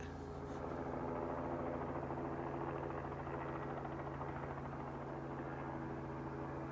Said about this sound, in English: there's a police helicopter and you can't see it